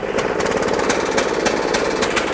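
A worn 30-year-old John Deere 14SB walk-behind lawn mower engine running rough with the blade brake clutch engaged, its steady loud clatter continuous and close throughout, with no talking.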